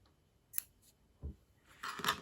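Scissors snipping crochet yarn, a few quiet, close metallic snips and clicks in a hushed room, with the last cuts slightly louder and grouped together at the end.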